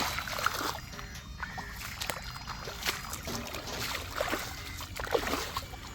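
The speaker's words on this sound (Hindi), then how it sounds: "हमारे गांव में नहरी पानी आ गया है और ये पानी अब हमारी ज्वार में जा रहा है।" Canal water flowing into a sorghum field in a village, a quiet ongoing gurgle with small splashes and sloshing, faint and close.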